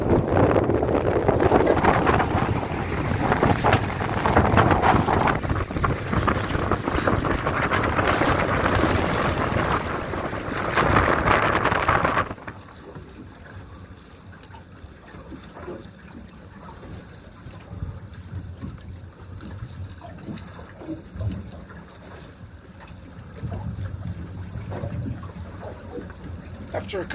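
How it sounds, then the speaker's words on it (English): Strong wind gusting on the Lancaster Canal at Glasson roars across the microphone as loud, steady buffeting for about twelve seconds, then drops to a quieter, patchier rumble with occasional gusts. "it's blowing a hoolie"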